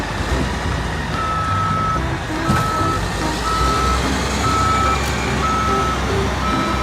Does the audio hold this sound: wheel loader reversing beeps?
yes